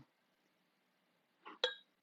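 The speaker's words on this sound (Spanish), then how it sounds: "Vamos a menearlo una vez más y lo vamos a probar." Two quick glassy clinks from a spoon stirring a jug of hibiscus water, one soft and one sharper, close and isolated in an otherwise quiet kitchen.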